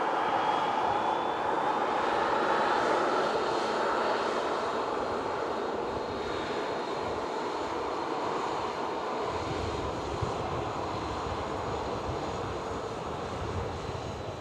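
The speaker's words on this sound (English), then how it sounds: "Oh, it's just Eastern Embraer, isn't it? Yeah, operating for KLM." An Embraer jet airliner operated for KLM at Manchester Airport roars steadily with continuous engine rumble and a faint high whine, heard from a distance and sustained throughout without speech.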